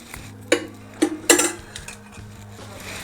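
A pan set on a stove and a spoonful of oil added for cooking mushroom tikka masala, with three sharp metallic clanks and clinks close by over a steady low hum, no talking.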